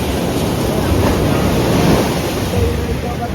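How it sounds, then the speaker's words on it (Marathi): Big ocean waves wash ashore at Keri beach in Goa, a steady broadband roar of surf with wind buffeting the microphone throughout. "मराठी बरेच मोठी लाटा येतात."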